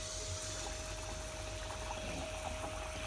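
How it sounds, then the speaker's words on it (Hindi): A battered potato slice for aloo pakora fries in hot oil, giving a faint, steady, continuous sizzle and bubbling throughout with no speech. "अब हम एक आलू के पीस को बैटर में डिप करेंगे और इसको ऑयल में डाल देंगे।"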